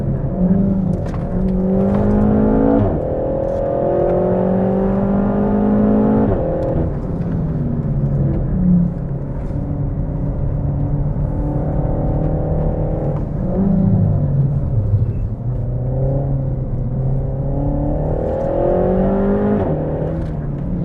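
A 300 bhp RenaultSport Megane Trophy on a race track, its engine revving up and dropping repeatedly in a continuous loud drone heard from the cabin, pitch sweeping with throttle changes and no voices.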